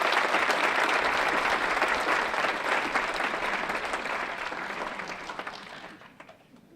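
An audience at a power symposium in Las Vegas applauds a volunteer, a steady, full wash of many clapping hands that holds for several seconds before slowly fading away.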